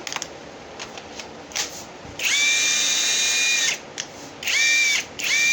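Power Bilt 21V cordless heavy-duty impact wrench running, a close, loud whirring motor whine in two bursts of about one and a half seconds and half a second, with faint handling clicks between them.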